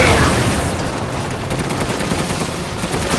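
Dense, loud gunfire and booms in the video game Resident Evil Village, one unbroken roar of shots filling the whole stretch with no clear gaps.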